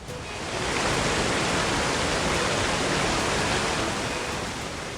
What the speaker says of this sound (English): Though an impressive sight, this waterfall posed our first problem